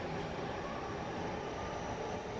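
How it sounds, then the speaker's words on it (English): A train runs steadily in Japan, in the Shibuya area of Tokyo, giving a continuous broadband rumble that holds at one level the whole time, with no talking over it. "The trains. We love the trains."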